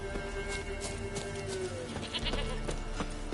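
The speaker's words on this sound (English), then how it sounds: "Here, goat." A goat bleats nearby, a short wavering cry over rustling and scattered knocks, with no other animals evident.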